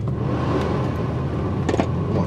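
Steady low rumble of a BMW E36 3 Series engine heard from inside the car, continuous and fairly loud, with a faint rattle near the end.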